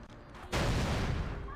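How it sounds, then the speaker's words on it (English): A loud burst of game explosion hits about halfway through a simple strategy-style video game, then sustains as a dense roaring rumble, preceded by quieter game sounds and under faint speech. "Explosion."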